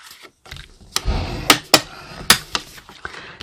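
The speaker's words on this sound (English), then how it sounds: "We're just going to burnish this." Folded cardstock for a handmade card is burnished with a tool, producing a handful of crisp taps and short scraping strokes close up, irregularly spaced over a few seconds with quiet gaps between.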